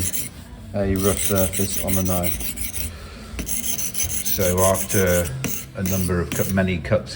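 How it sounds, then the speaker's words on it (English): A lead knife for leaded light making is sharpened with repeated rough rasping strokes, close and fairly loud, while someone talks between and over the strokes. "This is sharpening the lead knife, so it cuts through the lead easier and quicker."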